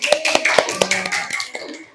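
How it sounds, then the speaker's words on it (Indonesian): Small group clapping hands in a classroom, a handful of sharp, uneven claps in a loose rhythm, fairly close, with some faint voices in the background. "Tepuk tangan. Tepuk tangannya mana?"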